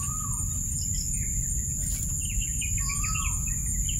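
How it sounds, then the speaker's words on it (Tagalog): A bird calls in a few short descending whistled notes over a steady backdrop of insect or cricket hiss, at moderate distance, with no talking. "Yung tumutunog na ibon, ano yun?"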